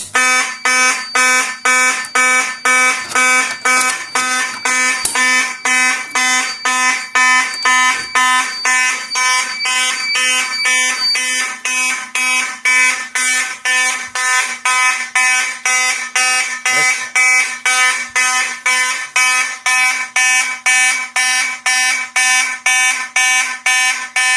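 A loud fire alarm blares in a fast, steady march-time pulsing pattern, repeating evenly over and over without pause.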